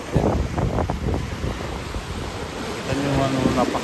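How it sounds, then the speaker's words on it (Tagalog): Strong open-sea waves of the Pacific Ocean crash and surge near a nature park shore, heavy wind buffeting the microphone, with a faint voice briefly underneath. "Yung lakas ng alon dito."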